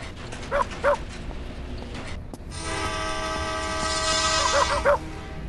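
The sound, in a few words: Rottweiler dog barking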